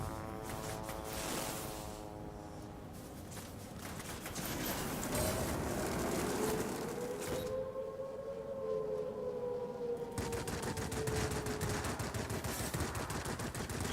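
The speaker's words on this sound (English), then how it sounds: "Gotta love the range on those cannons." Aircraft cannons firing in a flight combat game with a Yak fighter, rapid bursts of gunfire over droning engine and a rising-falling siren-like whine, layered and fairly loud, no talk.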